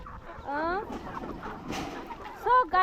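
Chickens on a poultry farm cluck and squawk close by, with several short calls rising over a busy scratchy background and a louder burst near the end.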